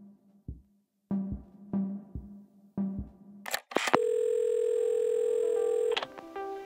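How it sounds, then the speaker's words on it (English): In the video game Assemble With Care, a telephone handset is picked up and a few clicks and tones sound before a steady, loud dial tone hums for about two seconds and then cuts off. "I finally felt ready to talk to them. I just didn't know if they would feel the same. Did I even remember their number? I wasn't sure until I reached for the phone and it all came flooding back."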